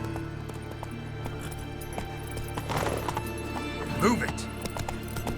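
Roach the horse galloping in The Witcher 3, a rapid rhythmic clip-clop of hooves under a low steady game hum, with a brief snort or whinny near the end and a short spoken line.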